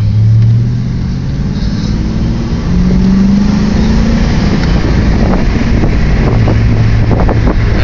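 Wind roaring past a 1992 Mustang LX 5.0 convertible driving down a back road with the top down, loud constant buffeting that swamps everything, with a low engine drone underneath.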